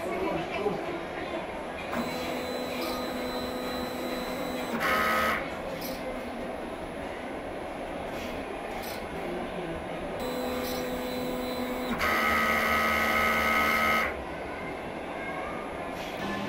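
A DTF printer runs a print-head cleaning cycle, giving a close, steady mechanical hum. Sustained electronic whines switch on and off in short stretches, with brief clicks between them.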